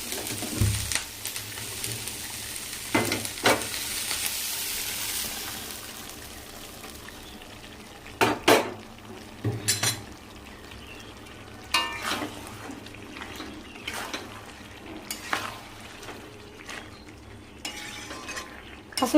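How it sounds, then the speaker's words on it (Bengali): Fried capsicum and onion are stirred into chicken in a pan, bringing a faint background sizzle broken by sharp spatula knocks and scrapes against the pan, louder early and then intermittent. "এটা হালকা করে ভাজা হয়ে গেছে, এবার চিকেনের মধ্যে দিয়ে দেবো ওটা।"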